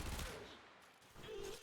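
A headshot fired in a video game: two sharp gunshot bursts with brief ringing tails, separated by a short lull, loud and close with no talking.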